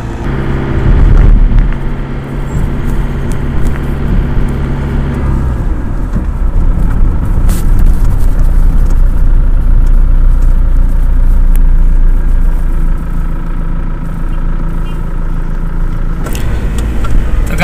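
Riding inside a car on a road in Saudi Arabia, a loud, steady low engine and road rumble filling the cabin throughout, with a brief knock near the start and a sharper thump near the end.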